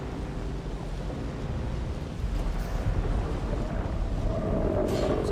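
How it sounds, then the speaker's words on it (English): Shai-Hulud the sandworm approaches in the video game Dune: Awakening as a deep, steady rumble that swells louder partway through, with a hiss like wind or shifting sand. "Sounds like Shy Halud's back."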